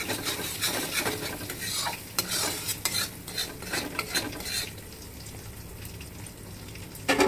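Ground spice masala with fenugreek and salt fries in a pan for a Bihari-style rohu fish curry. A spoon stirs it in brisk, close scraping strokes over a steady sizzle, the stirring eases off after about five seconds, and no one talks.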